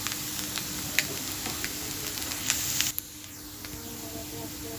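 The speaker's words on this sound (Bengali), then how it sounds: "আবার আমি ভালোভাবে খুন্তি দিয়ে নাড়াচাড়া করে নেব" Aloo chowmein sizzles in a frying pan as a spatula scrapes and clinks against the metal in irregular strokes, close up, with the hiss dropping noticeably partway through.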